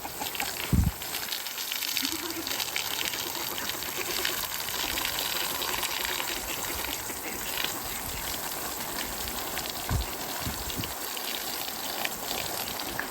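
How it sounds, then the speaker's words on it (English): A garden hose sprays a steady stream of water over Dolly, a donkey, outdoors: a constant broad hiss and rush that runs the whole time, with a few soft low thumps and no talk. "You want a little spray down, Dolly?"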